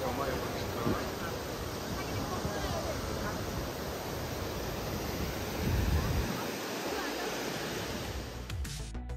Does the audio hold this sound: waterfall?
yes